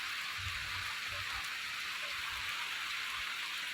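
Rain falls in a steady, even hiss outdoors, with faint low rumbling thumps underneath and no voices.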